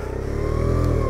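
Daytona Hobby 50 motorcycle engine pulling away in first gear, a loud, close, steady buzzing drone rising slightly in pitch as it revs, with no talk.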